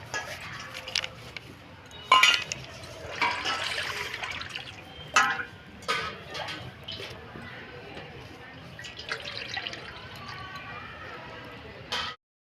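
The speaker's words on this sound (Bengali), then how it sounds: "এবার জল দেবো" Water poured into a hot wok while cooking prawn Hakka noodles, a trickling splash with a few sharp metallic clinks, heard close and fairly loud, with people talking nearby.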